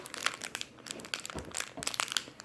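Gift parcel packaging being torn open by hand, a close series of crinkling, crunching and ripping rustles in irregular bursts, with no talking.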